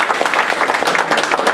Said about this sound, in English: So just like give him a round of applause.